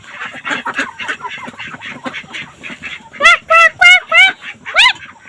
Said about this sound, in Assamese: এয়া চোৱা হাঁহ আছে